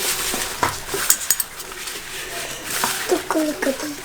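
Chapati laddu mixture with ghee stirred by hand in a bowl, giving repeated close clinks and scrapes of a utensil against the dish, with a voice talking over the clatter.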